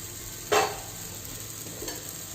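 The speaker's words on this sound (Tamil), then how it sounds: "தக்காளி நல்லா வதக்கி வச்சு கொஞ்சம் மஞ்சத்தூள், மிளகாத்தூள்," Tomato being sautéed in a pan with turmeric and chili powder gives one sharp stir-and-sizzle burst, then a steady low fry hiss with a fainter scrape later; close, no talking.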